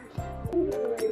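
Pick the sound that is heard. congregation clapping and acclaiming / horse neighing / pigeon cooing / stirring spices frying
pigeon cooing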